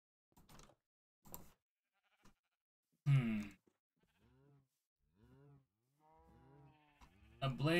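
Cows in a video game give several short, low, mooing calls, spaced apart, with a louder cluster in the middle and more toward the end, against otherwise quiet background.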